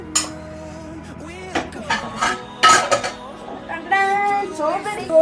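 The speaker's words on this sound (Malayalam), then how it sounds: "അയ്യോ കുറേ പാത്രങ്ങൾ കഴുകാനുണ്ട്" A stack of dirty pots and dishes clatters in a home kitchen, the pans used for chicken curry and egg dosa. Sharp clinks and clanks come in scattered bursts, close and fairly loud, while someone talks over them.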